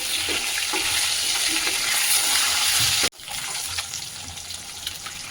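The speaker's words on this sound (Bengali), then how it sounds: "এবারে ভাজি আমি কাতলা মাছ" Katla fish frying in oil in a pan, a loud steady sizzle and crackle close by, cut off briefly by a sudden break, then resuming slightly quieter with scattered pops.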